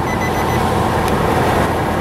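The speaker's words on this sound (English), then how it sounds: "that's my car telling me I'm too close to the hedge" A car's parking sensor warns of a hedge too close behind, a steady loud electronic tone sounding continuously over the hum of the idling vehicle.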